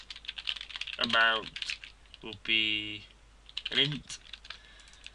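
Quick clicks of code being typed on a computer keyboard during a Unity 3D programming tutorial, heard in short bursts between and under a man's spoken explanation.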